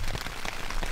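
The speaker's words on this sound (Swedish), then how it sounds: "Det började regna här så man fick fly in i tältet." Rain falls at a lakeside campsite, a steady close patter of drops striking a surface, even and unbroken with no voices.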